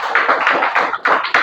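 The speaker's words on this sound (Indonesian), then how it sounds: "Tepuk tangan untuk bangsa dan negara." Hands clap in a classroom setting, loud and close, in a quick rhythmic run of about seven sharp bursts, like a group clapping together in time.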